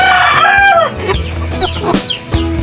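A backyard flock of chickens with a young rooster around six months old clucks and calls loudly and close by, overlapping squawks and cackles filling the moment without pause.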